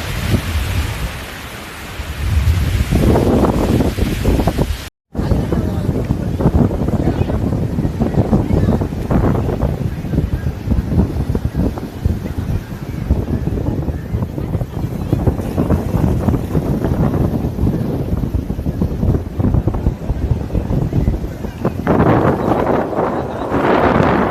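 Strong wind buffets the microphone at Velankanni beach, with a dense rumbling roar of surf underneath. The sound is loud and continuous, broken once by a brief dropout.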